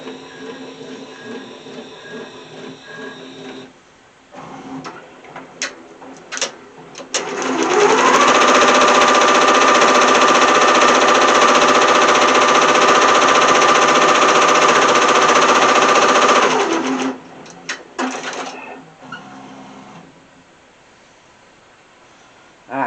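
A multi-needle embroidery machine stitches a hooded towel, running at a loud, steady mechanical whir with a sustained tone for several seconds, framed by quieter clicks and needle-change clatter before and after.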